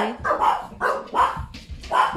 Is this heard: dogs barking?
yes